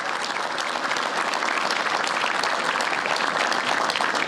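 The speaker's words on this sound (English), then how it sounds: "Give yourselves a round of applause" Sustained, dense applause from a campaign crowd at an Ohio midterm election night event, loud and steady throughout, with faint voices mixed into the clapping.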